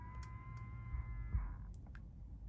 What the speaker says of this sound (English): lock the car